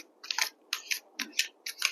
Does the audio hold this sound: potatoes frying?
no